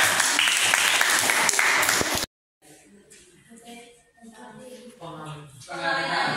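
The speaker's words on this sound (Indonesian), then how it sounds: "Tepuk tangan dulu." Applause in a classroom, a dense burst of clapping from a group of students that stops abruptly, followed by quieter murmuring and voices talking.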